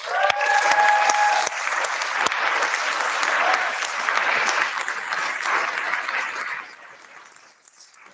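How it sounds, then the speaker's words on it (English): A convocation audience applauds the incoming class of 2029, a dense, loud wash of clapping that holds steady for most of the stretch, then thins and fades toward the end, with a brief voice early on. "Let's give them a round of applause."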